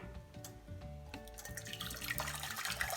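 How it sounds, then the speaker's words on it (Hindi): Water pours into a cooking pan in a home kitchen, a soft, continuous splashing trickle that grows fuller toward the end, faint and heard alone. "अब सबसे पहले पैन में मैं पानी डालूंगी"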